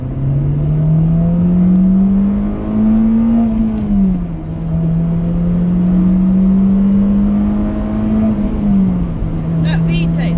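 A Honda Civic EP3 Type R engine holds a loud, steady drone that climbs in pitch, dips, then climbs again through the gears, heard from inside the car.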